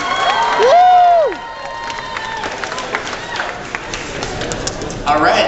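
A live audience at a Sonic Boom 2013 Q&A panel cheers for Amy Rose, a brief loud whoop rising over crowd noise, then settling into a steady murmur of cheering and scattered shouts.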